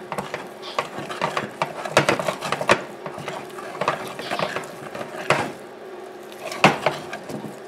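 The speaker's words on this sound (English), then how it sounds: "Continue stirring." A pot of homemade playdough mixture is stirred off the heat, producing close, irregular scraping and sticky clicking knocks as the spoon works through the thickening dough, with no talk.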